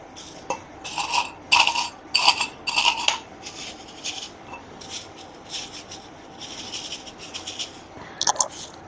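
Roasted dried shrimp pressed and rubbed in a sieve, giving bursts of dry crackly scraping and rasping in quick rhythmic strokes, close and fairly loud, then fading to quieter rustles.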